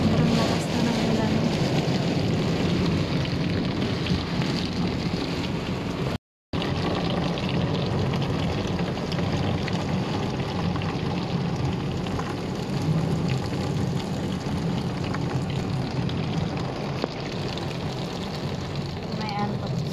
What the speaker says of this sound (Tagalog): Sobrang lakas na ng ulan guys.